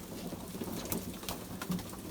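Pigeons in a loft with young birds among them, giving soft low cooing over a steady background hiss, with a few brief flutters or knocks.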